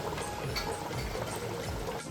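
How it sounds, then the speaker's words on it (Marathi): Chicken curry with coconut milk boiling in a large pot, a soft continuous bubbling and gurgling heard up close and fairly quiet. "उकळ आलाय."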